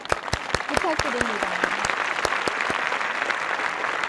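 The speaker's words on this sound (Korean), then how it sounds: "큰 박수 한번" Audience applause at a national diary awards ceremony in Korea, a steady wash of clapping filling the hall, with a host's voice speaking briefly over the start.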